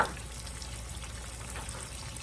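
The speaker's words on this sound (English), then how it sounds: "You want it sizzling immediately when you drop that in there" Chicken fried steak sizzling in hot frying grease, a steady close crackling hiss that holds evenly after a brief initial burst.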